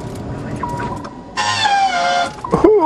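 On a very cold day, the starter of an engine left unused for six weeks cranks with a brief, loud whining grind lasting about a second, with a faint squeak after it.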